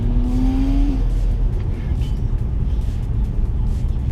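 A Ford Mustang GT engine roars loudly and continuously near a Nürburgring circuit, a rising whine early on, then a dense steady rumble throughout.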